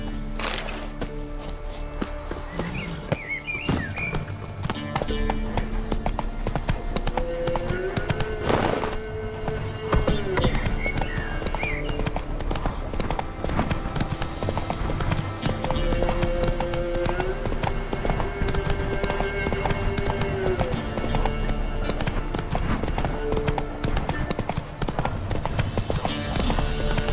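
Steady clip-clop of horse hooves from The Witcher 3: Blood and Wine, trotting on and on under game music and ambience, with a brief whinny partway through.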